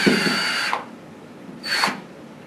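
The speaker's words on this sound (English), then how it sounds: "When you reach the cut, reverse your drill, and you can unwind your cord." A power drill whines through the armor and jacket of a HYBRIFLEX cable in two bursts, a loud high-pitched cutting grind that stops, pauses, then briefly starts again.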